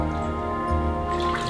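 Water splashes and trickles over a Labrador puppy in a bath, a short run of close dripping and pouring sounds over a low background hum.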